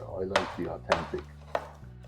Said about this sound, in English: Chop it as finely as you can.